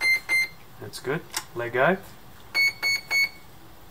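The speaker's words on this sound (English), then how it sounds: "We should have some beeping." An RC boat's electronic speed controller beeps on power-up with the throttle at full, a few short, sharp tones at the start and a trio at the end, with someone speaking between them.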